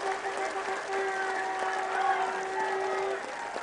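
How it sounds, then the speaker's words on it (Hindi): A crowd at a BJP rally in Meerut claps steadily in sustained applause that welcomes the party's national president, a dense, even roar of hands with a faint steady tone running underneath. "तालियों की गड़गड़ाहट से हमारे राष्ट्रीय अध्यक्ष का हार्दिक अभिनंदन किया जाना चाहिए"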